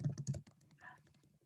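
Quick, close computer keyboard typing during an online video call: a short run of sharp key clicks, then quieter scattered taps under faint background noise.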